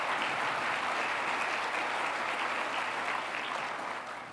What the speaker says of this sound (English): Let's give her a big round of applause for accepting that